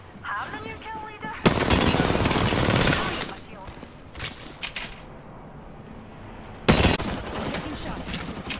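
Gunfire in a battle royale video game arrives as two loud bursts of rapid automatic fire separated by quieter shots and game noise, with a player talking over it.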